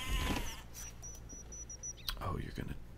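Sheep bleating in the Age of Empires II video game, a couple of short bleats near the start and again near the end, with a high synthetic game tone and someone talking.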